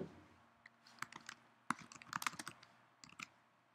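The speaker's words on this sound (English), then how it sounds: "Type in your comments" Quick clicking keystrokes on a computer keyboard, close and quiet, coming in short irregular bursts with brief pauses between them.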